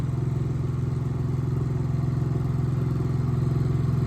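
A 7 hp outboard-style engine bought from Amazon drones steadily while the boat rides across water, a continuous low, even motor hum close by with no talking.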